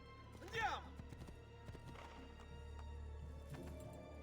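A horse in Assassin's Creed whinnies sharply near the start, then its hooves clop along under voices and game sound, fairly close but not loud.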